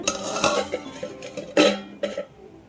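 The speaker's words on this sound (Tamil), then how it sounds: "இப்போது ஒரு அஞ்சு நிமிஷம் தட்டு போட்டு க்ளோஸ் பண்ணி விடுங்க" A few clinking, scraping knocks of a plate placed as a lid on a clay pot of sardine fish curry, with two sharper ceramic clatters standing out in a quiet kitchen.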